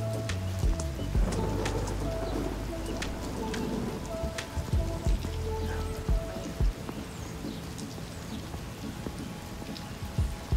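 Rain falls steadily on a street and school playground beside basketball courts, a dense close patter with sharper drops hitting nearby surfaces, and birds calling faintly underneath.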